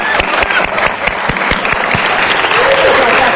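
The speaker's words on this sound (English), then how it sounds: "Oh, let's give a clap for them." Applause from people gathered at a city council meeting, a loud, continuous clatter of hand claps filling the whole moment, close and dense, with a few voices faintly mixed in.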